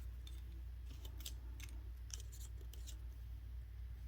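Paper being cut by hand with scissors for a 12 by 12 paper craft folder, giving a string of faint, quick snips over a low steady hum, with no voices.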